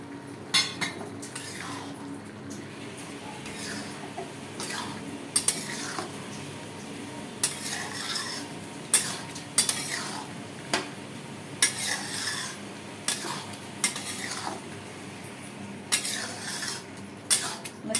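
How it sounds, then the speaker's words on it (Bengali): Khichuri being stirred in a cooking pot with a spoon, giving repeated scraping and clinking strokes against the metal at an irregular rhythm, close and fairly clear over a low kitchen hum. "নেড়ে চেড়ে নেব।"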